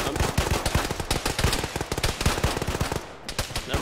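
Rapid machine-gun bursts in a military combat video game, loud and nearly continuous, with dense overlapping shots throughout.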